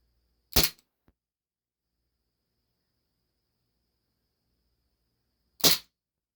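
ASG Steyr L9-A2 CO2 blowback airsoft pistol firing 0.20 gram BBs: two sharp, loud isolated shots about five seconds apart, with a faint click after the first and silence between them.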